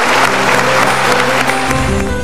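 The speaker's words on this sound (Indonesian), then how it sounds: "Saya tepuk tangannya." Audience applause at a live motivational talk show, a steady dense clapping wash that runs loud and continuous for about two seconds with no voice over it.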